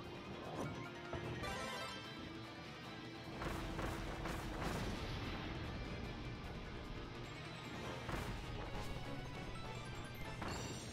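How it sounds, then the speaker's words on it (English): Bombs exploding in Kirby and the Forgotten Land, a string of crashing blasts and impacts scattered through a busy, constant game mix with no talking. "Just keep doing bombs."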